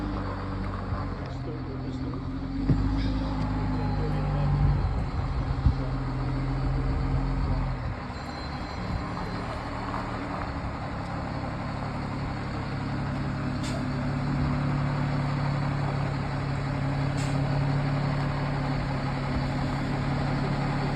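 A truck chassis for a 1,500 gallon tender build rumbles as it backs around an old trailer, its steady low engine drone continuing throughout, with someone talking over it.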